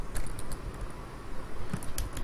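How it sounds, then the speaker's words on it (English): Brisk typing on a computer keyboard, a run of quick, fairly close key clicks that keeps a steady rhythm with small pauses in between. "so I will be typing it"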